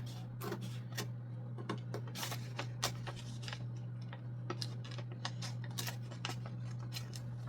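Scissors snip through a paper pattern for a man's shirt in a run of sharp, repeated cuts at an uneven pace, close and clear over a steady low hum.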